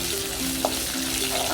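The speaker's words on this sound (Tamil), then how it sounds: "இப்போ உளுத்தம் பருப்பு போட்டுருக்காங்க. அதுவும் நல்லா பொரிய விட்டுருங்க" Urad dal and cumin frying in hot oil as a tempering, a short, steady sizzle with a faint pop, close and alone.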